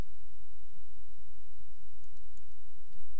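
Sharp computer mouse clicks ring out close by over low background hum, scattered through the stretch with a small cluster near the end while someone sets up a dial-up connection on a PC.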